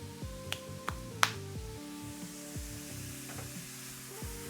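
Leftover Thanksgiving stew is sautéed in a crowded pan, giving a faint sizzle under repeated clanks and scrapes of a utensil against the pan, with a few sharp taps near the start.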